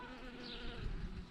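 Bees buzz close by around flowering lavender in a garden, a steady droning hum that wavers slightly in pitch, with no talking.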